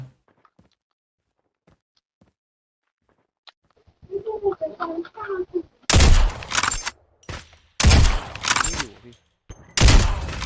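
Gunfire from Call of Duty Mobile comes in several loud, sharp bursts in the second half, following quiet faint clicks and a brief stretch of muffled voices.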